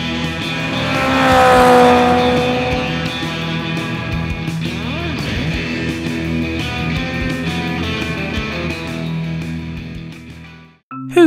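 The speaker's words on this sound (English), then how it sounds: "an engine zoomed past them." A toy train engine zooming past, a loud whirring motor that swells and fades as it passes, with a brief clatter at the end.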